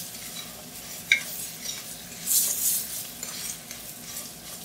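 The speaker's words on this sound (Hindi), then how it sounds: "जीरे को रोस्ट करेंगे, साथ ही इसके अंदर शामिल करेंगे ग्रीन चिली" Cumin seeds and chopped green chilies roasting in a pan give a soft, steady sizzle, with a spoon stirring and scraping now and then, close and unaccompanied by talk.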